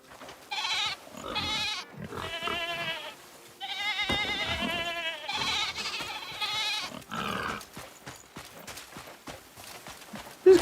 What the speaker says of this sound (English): So 3 wild female goats.